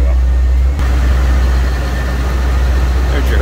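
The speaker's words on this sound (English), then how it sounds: "you will hear that compressor kick on and off" A 1978 Chevrolet Corvette Pace Car with a 350 V8 idles with the air conditioning on while its AC compressor cycles; a loud, steady low engine drone runs throughout, with a brief dip near the start as the compressor engages.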